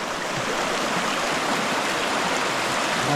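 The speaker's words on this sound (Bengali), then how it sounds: "এখানে অনেক স্রোত" Strong current of a rocky hill stream in Bandarban, a loud continuous rushing roar of water heard close with no break and no talking.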